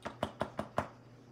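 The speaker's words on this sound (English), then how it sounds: "Mr. Cream heard a quiet little knock at the front door" Five quiet, evenly spaced knocks land on a front door in quick succession, crisp and close against a near-silent background.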